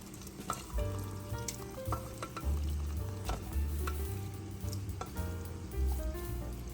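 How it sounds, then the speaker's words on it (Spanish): Beef tripe going into a pot of chickpeas for a Colombian stew, with a steady close sizzle and frying crackle, soft stirring and scraping, and no voices. "En este punto voy a agregar el mondongo a los garbanzos."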